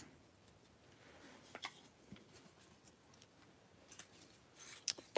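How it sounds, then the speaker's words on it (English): Scissors snip through stamped cardstock in a few quiet, sharp cuts spread over a few seconds, close and faint against a soft background hiss. "I'm just gonna snip this off"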